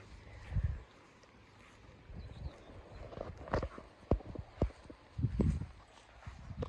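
Hooves clip-clopping on hard ground with uneven steps, fairly faint, against a quiet outdoor background with a light breeze.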